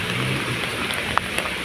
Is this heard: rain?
yes